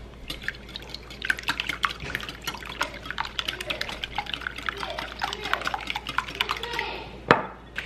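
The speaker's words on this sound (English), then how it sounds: "now I'm gonna start whisking my eggs" Eggs seasoned with garlic salt and pepper being whisked in a bowl, a steady run of quick, close clicking strokes with light kitchen noise and a faint voice.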